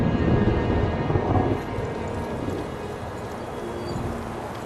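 Thunderstorm in Kingdom Come Deliverance II: heavy steady rain pours with a deep rolling rumble of thunder that is strongest at the start and fades into continuous downpour.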